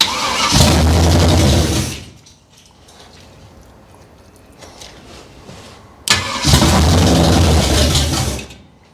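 Abandoned 1968 Camaro cranking for its first start, two loud churning bursts of starter and engine noise of about one and a half and two and a half seconds, close by, with a low idle-like rumble between.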